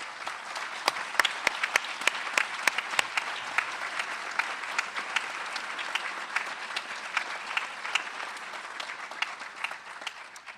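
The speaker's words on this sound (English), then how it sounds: "would you please stand for a round of applause?" An awards-ceremony audience applauds steadily after being asked to stand, with dense clapping and a few sharper individual claps standing out near the start, no voices on top.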